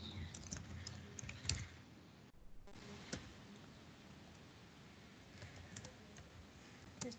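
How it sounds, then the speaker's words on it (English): Someone types a git command at a computer keyboard, producing a soft, uneven run of key clicks with a few sharper taps and a brief pause midway, with no talking. "Just type the command again."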